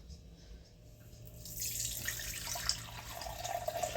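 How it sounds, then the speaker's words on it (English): Water kefir is poured through a mesh strainer into bottles, a soft trickling and splashing stream that grows louder and fuller partway through, close and alone without talk. "I strain the kefir grains out while I pour this into my bottles."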